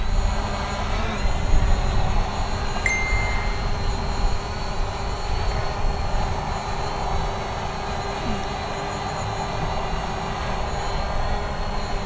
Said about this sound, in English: I was trying to fly directly into the wind, and the drone was really struggling